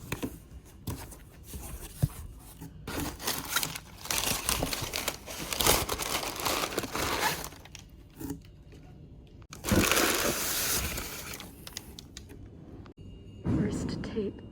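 Packing tape peels off a market order package in repeated rough, crinkling rips and crumples, close by, with quiet pauses between bursts and a low voice murmuring at times.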